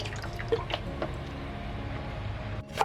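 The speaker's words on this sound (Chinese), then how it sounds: "然后倒入清水给它泡个20分钟" Clean water poured over dried seafood (dried shiitake mushrooms, dried scallops and dried shrimp) in a bowl to soak: soft trickling and a few distinct drips over a low steady hum, close and quiet.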